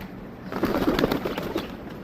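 Pigeons coo softly in low, throaty murmurs over a steady background hiss, with no voices.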